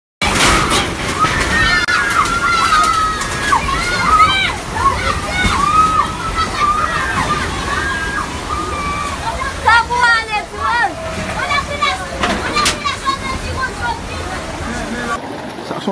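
Rushing floodwater sloshes and churns steadily through a flooded area in Haiti, loud and continuous, with excited voices and shouting throughout.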